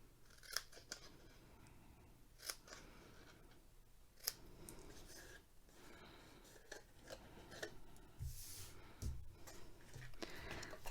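Scissors cut through egg carton cardboard in a run of crisp, separate snips, close and quiet, with small handling noises between the cuts.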